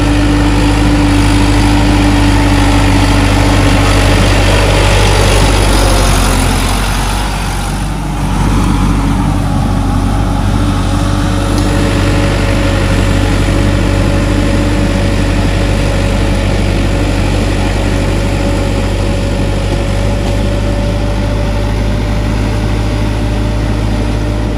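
A Sonalika 60 Rx tractor engine runs continuously at close range during rice-field puddling, giving a loud, steady low diesel drone with a brief dip in load midway and no talk.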